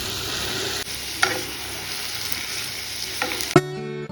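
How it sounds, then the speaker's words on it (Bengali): Okra and potatoes frying in a pan give a steady, close sizzle, with a few light clicks and a sharper clatter near the end, and no voices. "আর এইদিকে আমাদের জন্য একটুখানি ঢেঁড়স আলু ভাজা বসিয়েছি"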